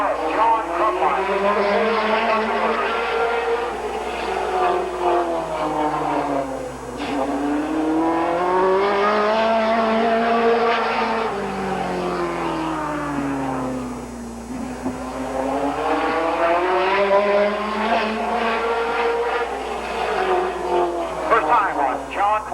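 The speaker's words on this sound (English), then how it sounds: "Track to qualify now out of Canton, Ohio, the number 38 car, John Crumpline" A race car on a speedway qualifying run at Midvale Speedway in 1988, its engine droning loud and close with rising and falling pitch sweeps as it laps, while an announcer talks over it throughout.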